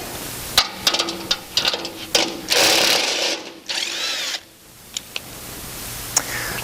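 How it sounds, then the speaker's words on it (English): Impact wrench zipping 5/16 bolts off the front auger plates of a grain cleaner with a 1/2-inch socket, several short loud bursts and one longer run of whirring and rattling, close up and with no talk. "I chose to use an impact because it's a little bit quicker"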